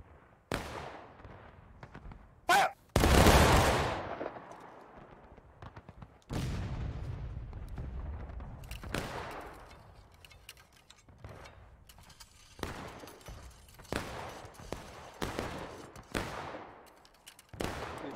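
Musket volleys in the American Civil War game War of Rights, a string of sharp shots that start close and loud, then crack and pop at uneven intervals, some nearer and some more distant, with quieter gaps between.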